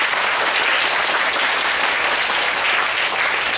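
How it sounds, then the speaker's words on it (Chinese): An audience at a talk gives steady, dense applause for the translator, loud and close, with no break across the stretch. "我们先给这个译者啊一个那个翻译的译者詹文硕先生给一个热烈掌声啊"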